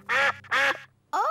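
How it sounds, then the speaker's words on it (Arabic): Cartoon ducks in a park quack in two loud, separate squawks, followed by a rising nasal call at the end, with no talk over them. "أوه، إنهم البط"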